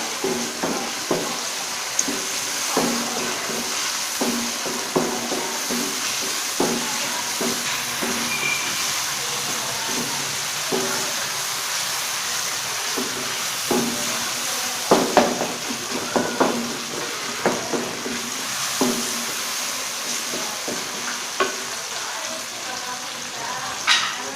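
Green chilies and tomatoes frying with browned onions in a pan over medium flame, giving a steady sizzle and hiss with frequent stirring clinks and scrapes, close and continuous with no talk.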